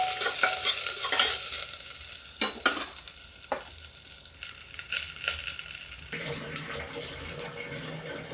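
Spice paste mixed with water sizzles and is stirred in a pan of vegetables, with scraping spoon strokes and bursts of frying hiss that continue steadily, close and moderately loud, with no talking.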